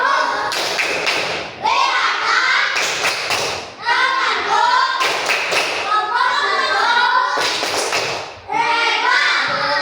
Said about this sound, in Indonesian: Kita berikan tepuk dulu ya. 1, 2, 3. Tepuk tangan.